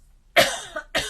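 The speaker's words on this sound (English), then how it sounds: "Oh, excuse me, I've got a cough." A woman lets out two short, sharp coughs close to the microphone, the first slightly longer with a rough tail and the second following quickly after a brief gap.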